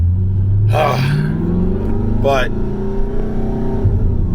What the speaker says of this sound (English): I feel like this car is loud enough in or out of sport mode. But sport mode, it really does scream.